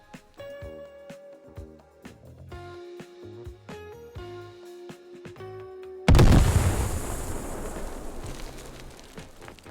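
A C4 charge explodes in a video game in one sudden, loud blast that rumbles and fades away. It follows several seconds of plucked musical notes.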